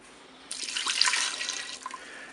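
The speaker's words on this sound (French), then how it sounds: "Et puis je vais mettre mes 300 ml d'eau." Water poured into the bowl of a Cookeo pressure cooker over potatoes, a steady close splashing stream starting about half a second in and running for nearly two seconds before tapering off.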